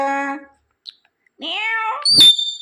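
A pet parrot imitates a cat's meow, giving harmonic, drawn-out mews broken by a short pause, then a sharp, high squawking note, close and clear.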